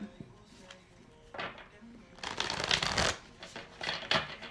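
A deck of tarot cards is shuffled by hand close up: a few soft taps first, then bursts of riffling and rustling that grow louder toward the middle and continue in short flurries, with no talk over it.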